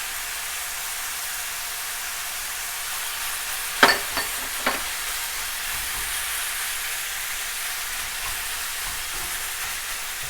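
Steady hissing sizzle of chopped onions frying in a pan, a continuous bright crackle with a few soft stirring clicks partway through.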